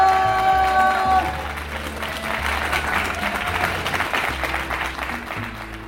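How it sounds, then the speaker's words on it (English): Audience applause at the close of a podcast episode, a crowd clapping steadily at moderate volume beneath a sustained musical tone that fades early on. "Big round of applause!"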